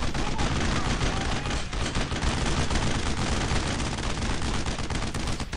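Constant gunfire from the World War II shooter Brothers in Arms: Road to Hill 30, during the fight at Vierville: loud, dense rifle and machine-gun fire crackling without a break, with no talking.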